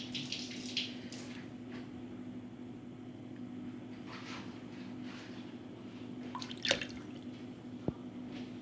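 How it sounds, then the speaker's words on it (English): Mother vinegar poured into a jar for homemade vinegar makes a faint, quiet trickle and drip over a low steady hum, with a couple of small clinks. "Now I'm adding the vinegar."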